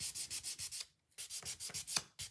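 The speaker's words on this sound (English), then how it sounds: "notice how I'm just taking the sanding block and going lightly over this." A sanding block rubbed lightly back and forth over a stenciled wooden basket, about a dozen quick, close, rhythmic scratchy strokes with a brief pause in the middle.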